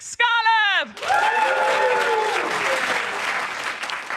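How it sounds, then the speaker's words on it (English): A comedy event audience bursts into warm applause and cheering for a stand-up comedian after a brief sung or shouted intro, clapping loud and sustained with whoops in the crowd. "Please give a warm round of applause for the amazing Mick Scarlett!"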